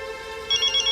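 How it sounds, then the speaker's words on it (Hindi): A telephone rings in a tense domestic drama scene, its tone entering halfway through as repeated bright bursts over a steady background music bed, with no talk. "भैया उसी का फोन होगा, उठाइए ना।"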